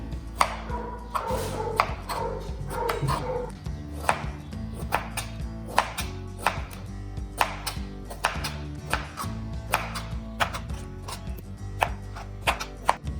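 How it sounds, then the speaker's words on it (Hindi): A knife chops melon pieces on a board for fruit chaat, sharp close knocks in an irregular series, sometimes quick and sometimes spaced, over faint background noise. "जी कटिंग हमने कर ली है मेलन की"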